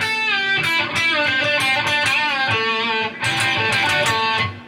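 A distorted electric guitar plays a fast solo phrase, bending, sustained notes, loud and continuous, with no voices.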